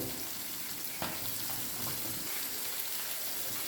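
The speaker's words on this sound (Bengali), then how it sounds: "মাছটা আমি বেশি ভাজবো না, হালকা ভাজা দেবো।" Fish lightly frying in oil for a fish bhuna gives a steady, close, even sizzle that runs unbroken from start to end, with no talk.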